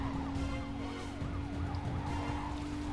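Wailing police siren in Need for Speed: Carbon, chasing a Nissan Skyline R34 GT-R, rising and falling steadily over a constant car engine hum, with no talk.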